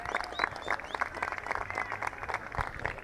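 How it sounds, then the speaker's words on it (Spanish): Home fans in a stadium applaud a player being substituted during an Argentino versus Santa Clara football match, with faint, distant clapping and crowd noise spread across a few seconds. "El aplauso de su gente, el aplauso de su hinchada"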